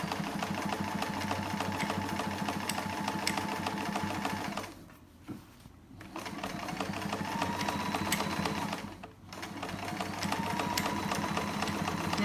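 A sewing machine runs a straight seam on a chair pouch in a steady, rapid stitching rhythm up close, with two brief pauses where the needle stops before stitching resumes.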